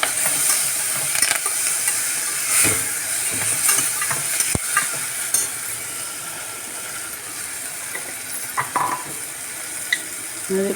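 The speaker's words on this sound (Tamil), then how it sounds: "அதையும் நல்லா வதக்கி வைக்கணும்." Tomatoes sauté in a pan after onions for a homemade chow chow kootu, a continuous soft sizzle with occasional scraping stirs and light clinks of a spoon, close and unaccompanied by talk.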